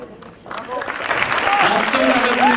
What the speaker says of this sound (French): Un tel applaudissement